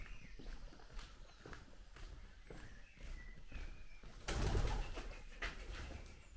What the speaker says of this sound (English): the pigeons were coming in here